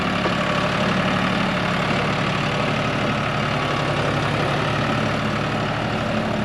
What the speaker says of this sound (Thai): ฟังจากเสียงเครื่องนะครับ ไม่ได้เร่งเครื่องเยอะเลยคันนี้